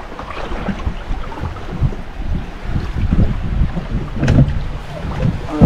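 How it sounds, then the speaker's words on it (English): A fishing boat slides into open water off Cayo Coco, with water sloshing and churning close by under steady wind buffeting the microphone, brief splashes rising near the end. "bringing the boat in the water now"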